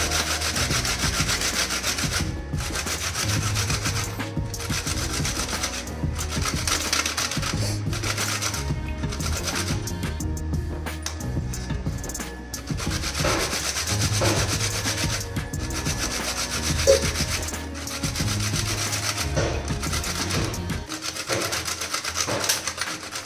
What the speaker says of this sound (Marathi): आता आपल्याला किसणीच्या साह्याने त्याला किसून घ्यायचं आहे।